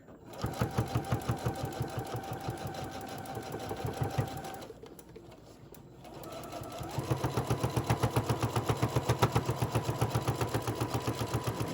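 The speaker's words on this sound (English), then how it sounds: "Now we're going to finish sewing all the way around." A sewing machine stitches around a fabric bowl koozie with a fast, even mechanical chatter close by. It pauses briefly midway, then resumes at a steady pace.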